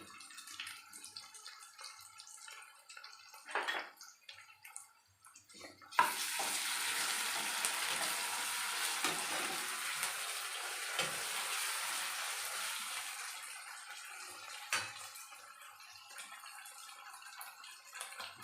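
Gram flour fritters sizzle in hot oil as a steady, loud, hissing fry that runs for several seconds, with quieter kitchen clatter before and after.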